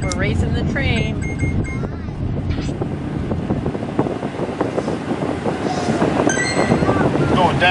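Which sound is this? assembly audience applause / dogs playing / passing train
passing train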